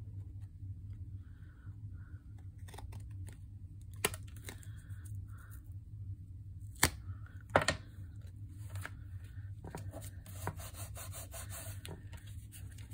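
The overly tall spine of a handmade vintage-style journal is trimmed off. Soft rubbing and scraping of paper or board runs over a low steady hum, with a few sharp clicks and cuts scattered throughout and no talking.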